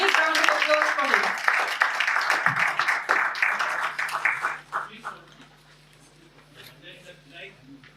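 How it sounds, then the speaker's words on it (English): Audience at a speech contest meeting applauds a contestant, clapping loud at first under a speaking host, then thinning and fading away to near quiet. "Please give a big round of applause for him."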